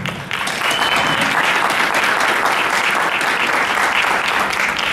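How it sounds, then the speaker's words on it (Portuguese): An audience at a cultural seminar on tattooing claps in sustained, dense applause, loud and even for the whole stretch with no voices over it. "uma salva de palmas para a Carla Rissato."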